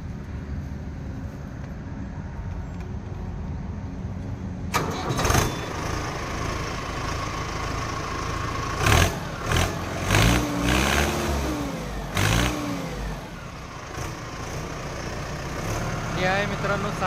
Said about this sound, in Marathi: तर आता मी तुम्हाला या ट्रॅक्टरची फायरिंग ऐकवणार आहे मित्रांनो.